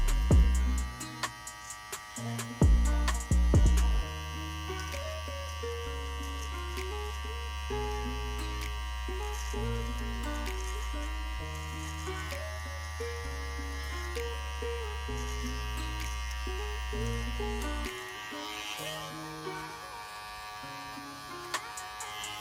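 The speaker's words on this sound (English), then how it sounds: "take your clipper, fading clipper, go in with it open first and clean up any dark spots you see" An electric fading hair clipper with detachable blades runs at close range with a steady buzzing hum while it cuts hair. The motor tone shifts slightly as the blade works through the hair, and no one talks.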